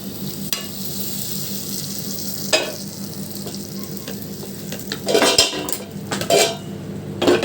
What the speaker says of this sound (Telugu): ఇప్పుడు కర్రీ తీసి ఈ తాలింపు దీంట్లోకి వేసేద్దాం